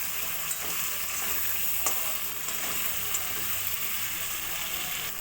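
Fried potatoes and capsicum sautéed in spice paste sizzle steadily in a pan, with a few soft stirring knocks and clinks against the constant hiss.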